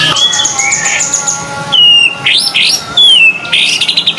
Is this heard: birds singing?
yes